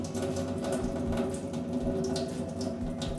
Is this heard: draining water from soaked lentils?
yes